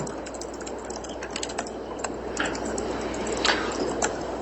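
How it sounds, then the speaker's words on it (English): Reporters typing on computer keyboards in a courtroom during a murder trial, rapid overlapping key clicks under a steady background hum, fairly close and continuous with scattered louder taps. "the clicking that you're hearing is reporters typing"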